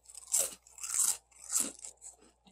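Hot garlic shrimp chips crunched up close, three crisp bursts about half a second apart, followed by a softer trailing crackle in an otherwise quiet setting.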